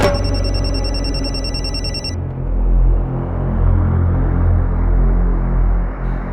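A mobile phone left behind at home rings loudly with a bright electronic tone for about two seconds, then stops, leaving a low rumbling hum.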